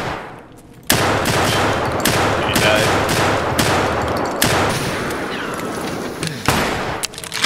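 Escape From Tarkov gunfire: a loud, sustained burst of automatic fire that runs almost the whole time, with several sharp, heavy shot onsets cutting through the dense rattle.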